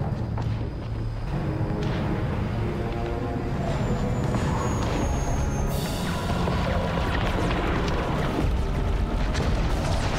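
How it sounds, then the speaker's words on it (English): Heavy rumbling explosions and booming blasts from the Mass Effect 1 Legendary Edition ending space battle, loud and continuous, layered with a dense roar of game sound and no speech. "Beautiful explosions everywhere."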